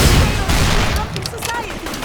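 Gunfire in the Mercenaries 2: World in Flames video game, a dense burst of shots and booms at the start, then scattered crackling shots and whistling effects trailing off under game audio.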